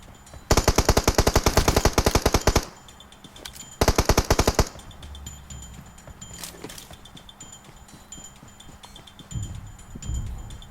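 Gunfire in the mobile game PUBG Mobile: two loud, rapid bursts of automatic fire, followed by quieter game ambience with faint thuds.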